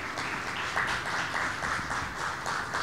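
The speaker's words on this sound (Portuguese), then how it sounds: "Peço uma salva de palmas." An audience at an architecture debate held at the Museu da Casa Brasileira applauds a newly introduced panelist, a continuous round of many hands clapping with a loose rhythmic pulse.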